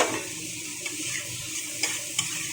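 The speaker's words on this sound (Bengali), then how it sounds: "এরপরে দিয়ে দিলাম বেগুনটা।" Eggplant pieces are dropped into a pan of well-fried spices for a tuna fish curry, giving a steady, close, loud sizzle with a few scraping stirs of the spoon and no talking.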